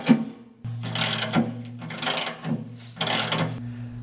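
A 3/4-inch ratchet socket wrench tightens bolts on a snow-removal attachment for a compact tractor, three bursts of rapid clicking separated by short pauses, close and clear over a low steady hum.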